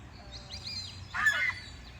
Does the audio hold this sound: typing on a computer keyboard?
no